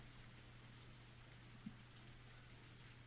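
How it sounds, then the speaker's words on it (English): Rain in the Higurashi When They Cry video game makes a steady, even hiss of falling rain that runs throughout, with one faint tap midway and no voices. "Why is the rain so fucking loud?"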